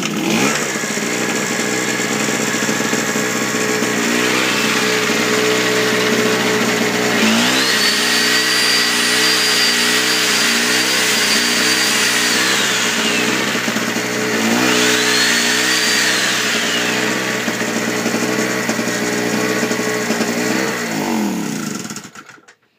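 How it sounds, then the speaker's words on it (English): A Harbor Freight portable generator drones steadily and loud throughout, its engine note dipping and labouring twice as a plugged-in saw whines up and runs down, then cutting out at the end. "So we'll go ahead and start it back up, show you that it'll run this saw here."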